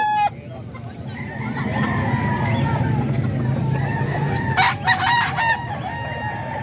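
Roosters, including a tall gray Talisayin gamecock about ten months old, crow loudly several times near the end over a steady farmyard hubbub with clucking fowl in the background.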